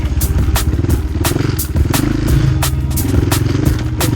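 Chinese 250cc dirt bike ridden along a summer single-track trail, its engine thumping loud and close with a pulsing throb and regular sharp clattering bursts as the bike works over the ground.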